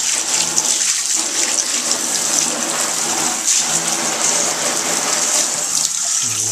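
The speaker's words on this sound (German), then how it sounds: "So, das sollte ein starker Regen gewesen sein." Steady, loud water spray hissing continuously, like a hose or shower drumming down as heavy rain on a dry bag, with no voices.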